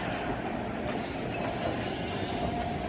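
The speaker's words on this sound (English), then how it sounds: "About to get on the train to go." A train rolls along with a continuous rumbling roar, faint metallic clinks and squeals riding over the steady noise.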